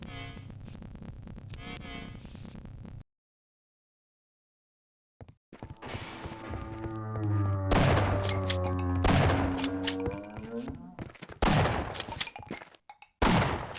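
Gunshots in Half-Life: Opposing Force ring out in bursts after a short silence, sharp repeated cracks over game sound and a sustained tone, fairly loud and close.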